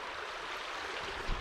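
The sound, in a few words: creek water flowing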